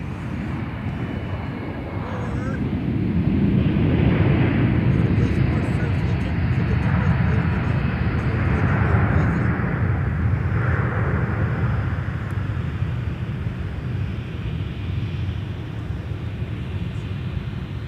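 A Delta Boeing 737-900ER airliner at Minneapolis–St. Paul airport produces a broad, steady jet engine roar that swells in the middle and then slowly eases, heard from a moderate distance with someone talking over it.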